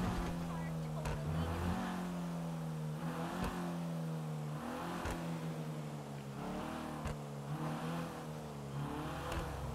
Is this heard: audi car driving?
yes